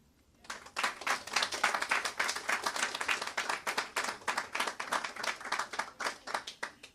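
Audience clapping at a Montserrat Public Library celebration for National Librarian Day, starting after a brief pause and holding as a steady, dense round of applause at moderate distance.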